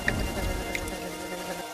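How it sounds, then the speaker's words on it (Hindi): Heavy rain pours steadily during a winter thunderstorm, a dense hiss with low rumbling thunder beneath and faint droplet ticks, fairly quiet and with no voices. "रात के आखिरी पहर बारिश रुकती है।"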